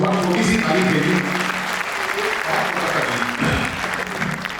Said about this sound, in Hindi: थोड़ी सी तालियां दे दीजिए, बहुत छोटी सी ताली दे दीजिए